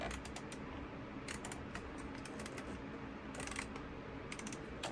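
Quick plastic clicks and taps from the buttons and knobs of a Winwing A320 flight control unit being pressed and turned, irregular bursts over a faint steady hum, close and fairly quiet.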